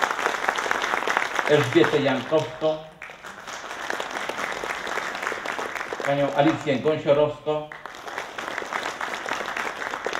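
Audience applause at an award ceremony for a town's person of the year, two swells of clapping rising under an announcer's voice, crowd-sized and moderately loud.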